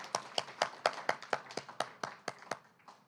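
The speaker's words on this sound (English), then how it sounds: "it deserves a round of applause for putting it together" Clapping at a poetry reading: a dozen or so distinct, evenly spaced claps that fade slightly toward the end, sounding like a small number of hands rather than a full crowd, quiet and with no talking.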